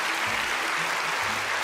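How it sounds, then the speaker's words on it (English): A television studio audience applauds, dense continuous clapping that stays loud and steady throughout the short stretch, with no talk over it. "Round of applause."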